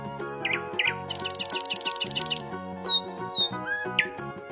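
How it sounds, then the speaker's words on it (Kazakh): A nightingale sings alone, close and clear, with a quick run of varied chirps, rapid trills and sharp whistled notes flowing without pause. "Бұлбұл."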